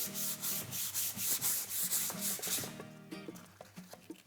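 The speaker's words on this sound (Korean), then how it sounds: "나무 결대로 이렇게 사포질 하는 게 훨씬 부드럽게 된다는 사실" Close, rhythmic rasping of sandpaper rubbed back and forth along the grain of a wooden cutting board, in repeated strokes that slow and soften toward the end.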